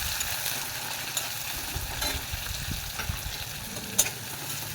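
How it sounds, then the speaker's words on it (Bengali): Chopped onion sizzles and fries in a pan for a dal, a steady close crackle with occasional stirring clinks and scrapes. "পেঁয়াজ কুচিটা আমি লাল লাল করে ভেজে নেবো"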